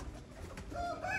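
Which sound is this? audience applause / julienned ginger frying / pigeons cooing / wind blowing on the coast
pigeons cooing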